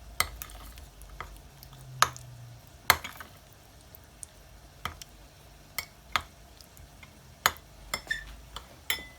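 Orange-coloured tutti frutti being stirred with rose water in a bowl, with a string of light clicking and tapping spoon strokes at an irregular pace, close and fairly quiet, with no talking.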